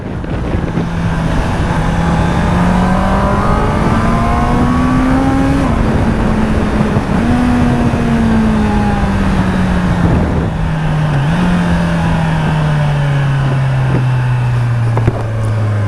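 A loud four-cylinder Honda CBR650R motorcycle engine drones steadily, its pitch rising and falling as it revs, with wind rushing over the microphone throughout.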